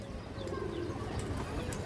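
Pigeons at a farm loft give low, continuous cooing close by, a steady throaty murmur with faint rustling and no talk.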